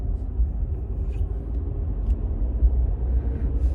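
A low, steady engine rumble fills the inside of a car idling and creeping along in stuck traffic, with a faint tick or two and no voices.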